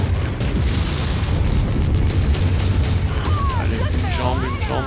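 Dense, continuous booming explosions and crashing impacts from mech combat in the video game Mechwarrior 5 Mercenaries, loud and sustained throughout, with rising and falling whine-like tones appearing near the end.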